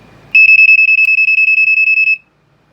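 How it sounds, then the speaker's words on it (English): A GE travel smoke alarm sounding its test warble: a loud, close electronic tone pulsing rapidly for about two seconds, then cutting off into silence. "you can hear it does the classic GE warble"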